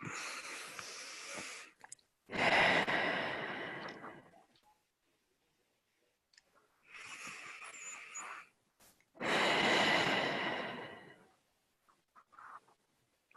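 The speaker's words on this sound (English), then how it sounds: "So everyone, please just take a couple cleansing breaths." A group doing a breathing exercise takes slow, audible cleansing breaths, four long inhales and exhales in a steady rhythm, separated by short pauses.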